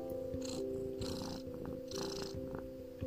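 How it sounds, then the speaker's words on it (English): A cat purrs close by in a soft, steady rumble, its rhythm rising and falling with each breath. "You are purring, are you?"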